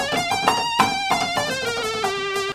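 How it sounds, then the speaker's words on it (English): A Korg MS-10 analog synthesizer plays a short melody of buzzy, bright synth notes with sharp attacks and a pitch that slides downward across the phrase, close and clear. "Korg MS-10 for a nice melody."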